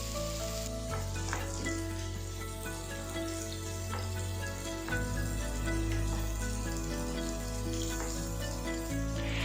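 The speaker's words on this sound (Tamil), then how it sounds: "ஆயில் நல்லா காஞ்சதுக்கப்புறம் நம்ம மேரினேட் பண்ணி வச்சுருக்கிற பன்னீர் க்யூப்ஸை இதில் ஆட் பண்ணிக்கலாம்." Marinated paneer cubes fry in hot oil in a kadai, giving a loud, steady, dense sizzle that runs throughout, with a shift in the crackle partway through.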